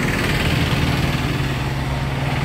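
A car engine idles steadily on a road trip, a smooth, even low hum with a constant pitch running throughout and no voices over it.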